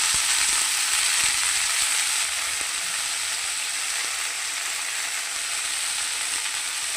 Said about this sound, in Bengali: এবার আমি কলমি শাকগুলো দিয়ে দিলাম।